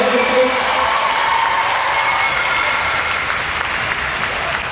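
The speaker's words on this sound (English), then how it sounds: "Give him one more nice round of applause." An audience at the Saugeen Shores Battle of the Blades skating event gives a steady round of applause, dense and continuous, tapering slightly toward the end.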